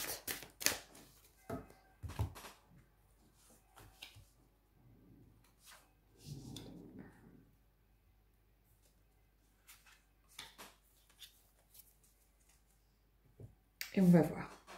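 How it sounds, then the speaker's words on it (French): Tarot cards handled, shuffled and drawn, scattered soft clicks, slaps and rustles up close, with a louder snap near the end and a person speaking between them. "on va aller prendre nos 3 cartes"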